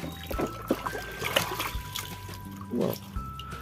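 Water trickles and splashes in short bursts while muddy toy cars are washed, with faint voices and intermittent dribbling close by.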